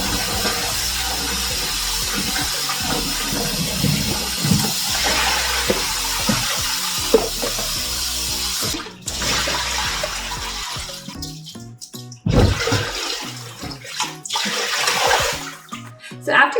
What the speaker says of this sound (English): And now we need to wash this in a water.